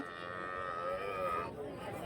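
A dairy cow at a Karimangalam cattle market in Dharmapuri gives a sustained, close mooing call of about two seconds over a busy background of crowd noise and livestock.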